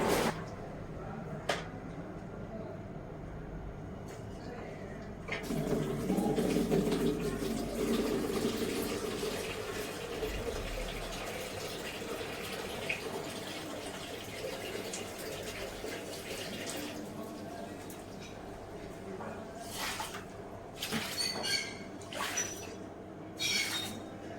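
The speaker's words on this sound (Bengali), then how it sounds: "এই যে আমি জল ঢেলে দিচ্ছি এখানে" Water is poured out to rinse away powdery dirt, a continuous splashing pour swelling near the middle, with scattered knocks and clatters toward the end.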